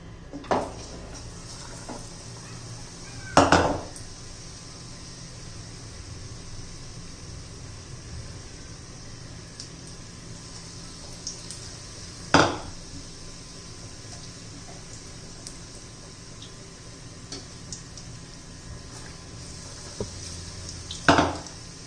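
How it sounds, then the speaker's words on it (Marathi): Vada dropped into hot oil in a kadhai, making a steady low frying hiss, broken by three sharp metallic clinks of a utensil against the pan. "हे पहा आता मी वडा सोडून घेते त्याच्यामध्ये"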